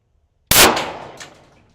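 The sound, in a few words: 9mm pistol shot hitting steel plate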